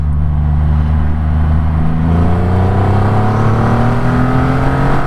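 A Triumph Rocket 3 R motorcycle accelerates hard in second gear, its smooth engine note rising steadily in pitch with a loud, continuous roar close to the microphone.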